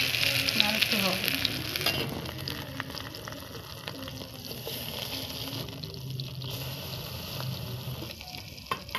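Crab-brain fritters coated with onion, garlic, green chilli, turmeric and salt are stirred as they fry in a kadai in a village kitchen. A steady close sizzle is broken by light scraping and clinks of the spatula, and no one speaks.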